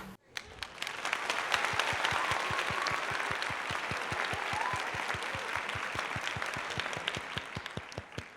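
Applause rising quickly after a brief pause and holding steady, dense clapping with distinct individual hand claps standing out close by in a regular rhythm, fairly loud throughout.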